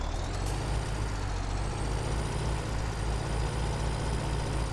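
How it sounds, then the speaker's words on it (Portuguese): Heavy truck maneuvering in Farming Simulator 17, a steady loud engine drone with a hiss of air brakes near the start, no voices. "Ela não tá me deixando eu manobrar, ó, o caminhão, ó."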